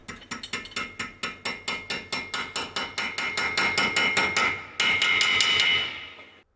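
Steady, rapid hammer blows ring out on a steel offcut, about four strikes per second, loud and close, ending in a longer sustained metallic clatter.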